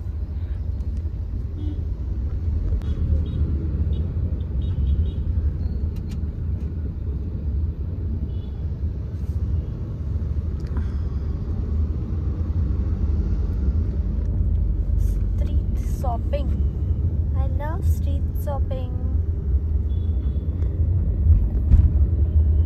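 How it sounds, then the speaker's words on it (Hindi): Heavy road traffic forms a constant loud rumbling drone of passing vehicles, with brief horn-like tones and chirps partway through and no clear talk. "बाप रे बहुत ज्यादा ट्रैफिक है।"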